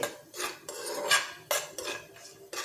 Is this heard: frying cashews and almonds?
yes